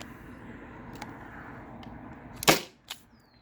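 A Byrna SD launcher fires aluminum rounds, giving one sharp, close pop followed a moment later by a smaller crack, with faint ticks and a quiet background before it.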